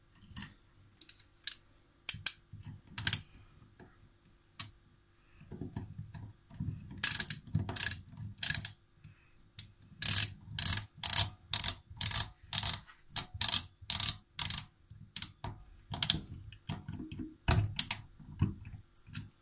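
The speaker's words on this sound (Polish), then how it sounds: "I teraz dokręcamy śrubami." Screws being tightened on a retro faucet during a leak repair: sparse small metallic clicks and ticks, then a quicker regular run of sharp ratchet-like clicks, close, with quiet handling noise between.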